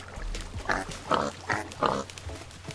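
Pigs in a Minecraft-style semi-automatic pig cooker give four clear oinks in quick succession, close and moderately loud over a low hum.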